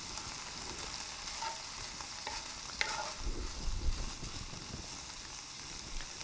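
Onions sizzle steadily in a pan for a stir fry, a soft even hiss with a few light utensil taps and a short stirring shuffle midway, fairly quiet and without speech.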